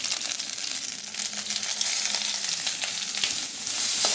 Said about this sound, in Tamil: லைட்டாக அதை அப்படியே வதக்கிக்கலாம்